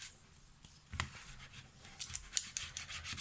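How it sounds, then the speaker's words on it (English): Recycled cardboard being burnished for a hard-covered gift card, a soft close rubbing with a few brief scratchy strokes and taps, quiet and intermittent with no talking. "now we're just going to burnish that"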